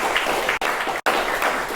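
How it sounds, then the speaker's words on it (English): An audience claps at a piano master class on Granados' "Los Requiebros". The applause is steady and full, with a few very short breaks in the clapping. "Can we applaud for that?"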